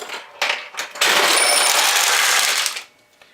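A 1978 Heiwa Date pachinko machine pays out, a sustained metallic clatter of balls spilling into the tray for about two seconds, preceded by a few short rattling bursts, close and loud with no talk.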